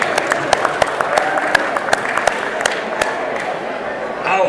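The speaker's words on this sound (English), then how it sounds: "Round of applause, please." Audience applause welcoming guests at a Hammer horror event, moderate steady clapping with sharp individual claps standing out, heard from within the crowd over background chatter.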